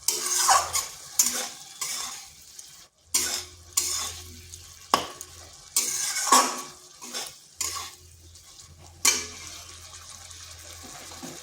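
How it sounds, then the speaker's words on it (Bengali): Soybean chunks stir-fried in spice paste in a pan, repeated bursts of scraping spatula and sizzle in an uneven rhythm, separated by brief quiet gaps, close and moderately quiet. "এখানে দিয়ে দিচ্ছি সয়াবিনগুলো দিয়ে ভালো করে একটু কষিয়ে নিচ্ছি।"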